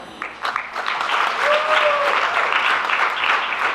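An audience applauds at a women's skills development program graduation ceremony, with sustained, dense clapping from a crowd that swells slightly and holds steady throughout.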